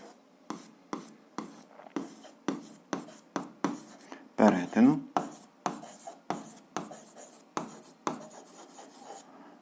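Pen strokes on paper while writing out an algebra answer, short scratchy bursts repeating in a steady rhythm, close and fairly loud, with a brief voice in the middle.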